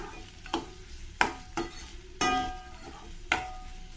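Sliced capsicum stirred in a hot frying pan, with a steady sizzle of frying broken by several sharp scrapes and clacks of the spoon against the pan, close and clear.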